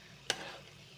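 Carrot halwa being stirred with roasted cashews and raisins, a single quick scraping stir up close followed by a soft, fading sizzle, no voices.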